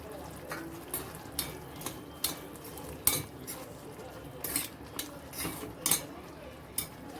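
Masala with mashed paneer being sautéed in a pan for a dhaba-style paneer angara, a spoon scraping and clinking against the metal in irregular taps over a low, steady sizzle, close and moderately loud.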